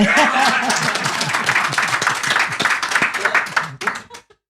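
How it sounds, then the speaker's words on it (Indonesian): An audience in a talk-show studio bursts into clapping mixed with laughter and chatter, individual claps sharp and close, the noise tapering off and stopping abruptly near the end. "Tepuk tangan buat saya"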